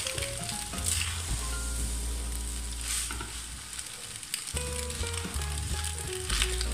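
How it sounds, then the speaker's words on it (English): Chicken and vegetable macaroni pasta in sauce sizzles steadily in a pan while being stirred, a continuous frying hiss with scraping stir strokes, close and fairly loud, with a steady low hum underneath throughout. "So we stir it and cook for like 2 to 3 minutes"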